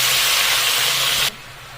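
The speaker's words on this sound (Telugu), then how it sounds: "దీనిలోకి మనం ముందుగా వాష్ చేసి పెట్టుకున్న గోంగూరను కూడా వేసి ఫ్రై చేసుకుందాం" Freshly washed gongura leaves hit hot oil and set off a loud, broad sizzling hiss. The sizzle holds steady, then cuts off abruptly to near quiet.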